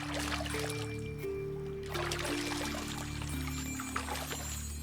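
Water poured steadily over a sustained musical score with low sustained tones, the liquid trickle faint and partly masked beneath the music throughout.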